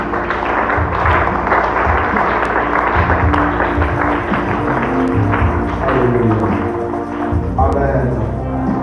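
A church congregation claps and cheers for the Lord at the close of a deliverance service. Loud, continuous applause mixes with voices and music throughout.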